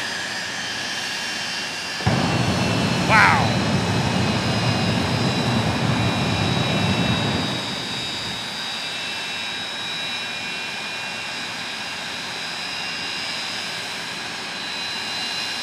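A loud jet engine on a jet-powered truck roars for several seconds at a speedway thrill show at night, then cuts off abruptly, leaving a steady background hum; someone briefly exclaims.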